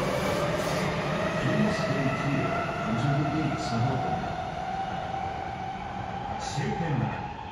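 Tsukuba Express train (1000 series set 1104F) pulling into a station platform with a steady low rumble and hum of wheels and motors, a faint announcement-like voice mixed in, moderately loud and continuous throughout.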